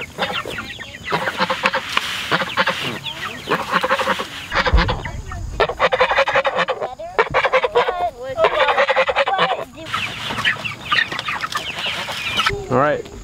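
A flock of turkeys and geese honks and gobbles in busy overlapping bursts, with loud goose honks close by and continuous chatter throughout, on a homestead.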